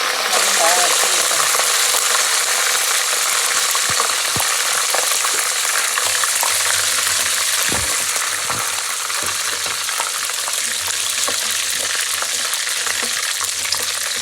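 Wet curry leaves sputter in hot oil for a Kannur kuttu curry, a loud, close, continuous sizzle and crackle with occasional sharper pops throughout.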